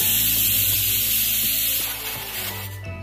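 Masala with fresh tomato puree sizzles steadily in a pan for dal makhani, a loud continuous hiss with faint scraping clicks underneath.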